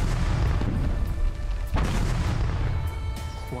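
Artillery shells strike bunkers in the World War I tactical game Ratten Reich, giving a loud, dense rumble of booms with one sharp blast partway through and no talk.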